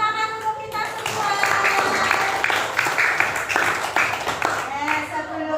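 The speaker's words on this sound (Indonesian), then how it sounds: "Tepuk tangan untuk kita semua." Children in a classroom clap together in a lively burst after singing a national song, with quick sharp hand claps close by and brief speech at the start.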